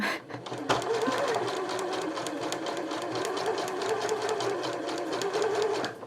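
A sewing machine stitches bias tape onto a dress bodice, a loud, steady, rapid mechanical whirr with fine rhythmic ticking that runs continuously at close range after a brief start.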